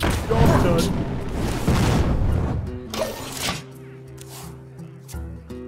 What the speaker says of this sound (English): Midsummer fireworks are the best!